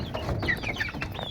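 Chickens cluck in quick, close, repeated calls while eating freshly cut grass, with no talking over them.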